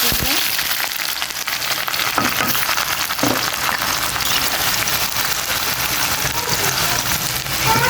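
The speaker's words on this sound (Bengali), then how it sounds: "পেঁয়াজকে ভালোভাবে বাদামি রঙের করে ভেজে তারপর মশলাটা দিয়ে দেব" Onions fry in hot oil in a wok, giving a loud, dense, continuous sizzle up close, with a few stirring scrapes and bumps.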